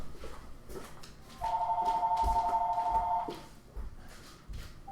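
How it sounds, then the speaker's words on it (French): A telephone rings once in a long, steady electronic trill over a room's background murmur, fairly close and moderately loud. "le téléphone sonne."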